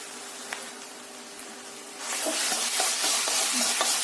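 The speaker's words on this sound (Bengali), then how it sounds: "হালকা ফ্রাই করব। দেখুন ঠিক এইরকমভাবে কিন্তু টস করে নিতে হবে।" Street-food-style egg chicken chowmein noodles with soy, red chili and Szechuan sauces are tossed in a hot pan. Quiet for two seconds, then a loud burst of dense sizzling with scraping and tossing clatter.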